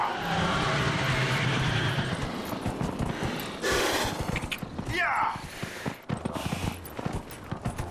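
Horse in the Dragon Age Inquisition video game, with hoof clip-clops and movement among game effects while someone talks over it throughout.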